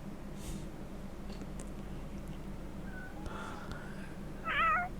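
A cat in the video game Shadow of Memories lets out a single short, clear meow near the end, over a low, steady background hum.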